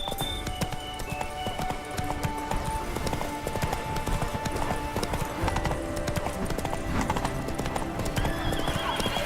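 Horse galloping in The Witcher 3: Blood and Wine, rapid rhythmic hoofbeats with neighing, close and steady alongside game music.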